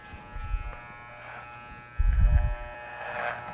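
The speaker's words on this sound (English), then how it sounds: "The clipper follows the comb." An electric hair clipper buzzes close by during a haircut, the thin steady hum swelling in short bursts as it runs along a comb through the hair.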